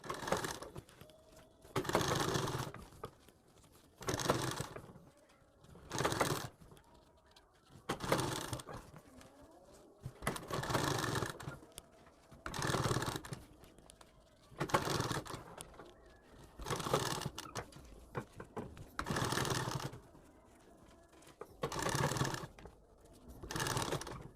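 A sewing machine stitching piping onto a sleeve, running in repeated short bursts of rapid mechanical whirring, each a second or two long, separated by brief pauses, close and steady.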